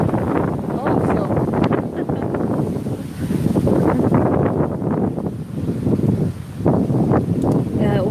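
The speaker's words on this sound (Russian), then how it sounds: "здесь ветер поднимается" Outdoor wind buffets the microphone in loud, continuous gusts, with a deep rumble and rustling swells that rise and fall throughout.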